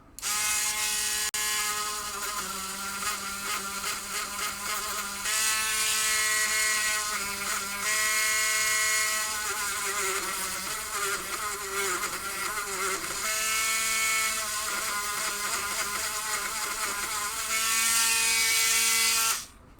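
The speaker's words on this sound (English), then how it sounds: "Now I'll take my little Dremel tool with a 443 bit, and we'll hit these couple of contacts" A Dremel rotary tool with a 443 bit cleans the switch contacts of a 1974 Williams Star Pool pinball machine, a close, continuous high buzzing whine that shifts pitch as the tool presses and eases off.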